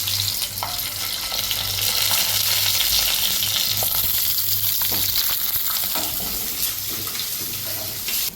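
Capsicum peppers fry in hot oil with curry leaves, giving a steady, close sizzle and crackle throughout with occasional stirring noises.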